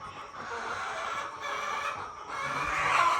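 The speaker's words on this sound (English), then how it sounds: "we need to start separating some of these chicks over here that are older." Chickens cluck in a pen in Ghana, a steady low murmur of clucking with a louder squawk rising near the end, fairly faint and without talk.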